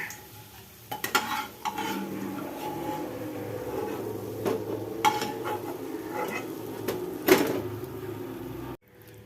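Fried fish roe fritters lifted from hot oil into a bowl, with scattered clinks of a metal utensil against the pan and bowl over a faint background sizzle, ending in abrupt silence.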